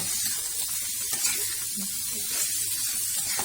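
Shallots and onion frying in oil for Indonesian nasi mandhi, a steady soft sizzle and hiss running evenly throughout with no voices.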